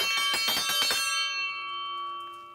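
A homemade triangle built from well pipe, used on the King of the Hill theme, struck in a rapid tremolo roll for about a second, then left to ring with a long, clear metallic sustain fading slowly.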